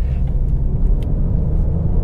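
Low, steady rumble of a 2018 Mark 8 Ford Fiesta ST with its 1.5 EcoBoost three-cylinder engine while driving, an even drone heard from inside the car with no talk.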